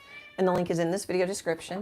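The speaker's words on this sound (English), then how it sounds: "my cat meowing" A pet cat named Freckles lets out a short, rising meow near the start, and a person then talks over the quiet room.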